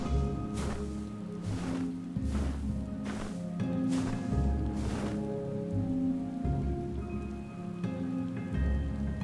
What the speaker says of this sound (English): It's raining in Ilmeg.